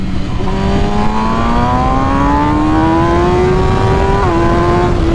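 A 2021 MV Agusta Rush with a BT Moto ECU flash tune revs hard, its engine note climbing steadily through one long pull with a brief dip near the end, loud and close with no talking.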